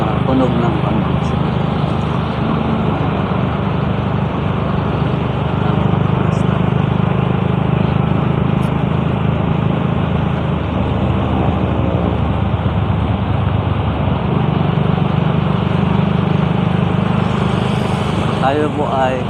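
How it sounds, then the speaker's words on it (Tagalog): A motorcycle with a loud, non-stock exhaust muffler rides steadily along a road in Hagonoy, giving a continuous broad engine drone with no breaks, and faint traffic noise mixed in throughout. "Para hindi ganito yung tunog ng tambos."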